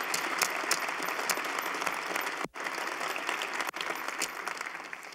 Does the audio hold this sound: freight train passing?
no